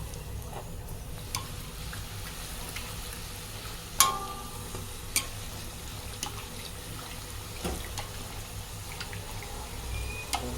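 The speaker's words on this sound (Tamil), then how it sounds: "கோல்டன் ப்ரௌனில் நல்லா அப்படியே ஃப்ளஃபியாக ஃப்ரை பண்ணிவிட்டு" Poori deep-fries in hot oil, puffing up golden and fluffy, with a steady close crackling sizzle and a few sharp pops and clinks scattered through it, with no voice.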